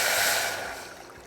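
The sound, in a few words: water poured into a pot for tamarind sauce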